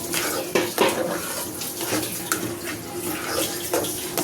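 Milk being poured into a pan on a gas stove while making mawa vadi, a steady liquid splashing and pouring sound with occasional clinks of utensils, close and moderately loud.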